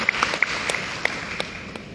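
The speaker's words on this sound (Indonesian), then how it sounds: "Kita kasih tepuk tangan yang paling meriah." A church congregation at Halleluya Center in North Jakarta claps together in a sustained round of dense applause, with a few sharper claps standing out, moderately loud and without talk.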